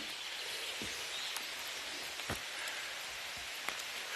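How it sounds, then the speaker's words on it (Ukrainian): Rain falls steadily outdoors, a constant hiss of drops with occasional louder close patters and faint bird chirps in the background. "Дощ, друзі, падає усе сильніше"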